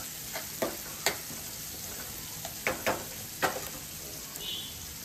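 Onions frying with salt in a pan, stirred now and then: a steady low sizzle with sharp scraping clicks of a spoon against the pan, a few spaced strokes, close and fairly quiet.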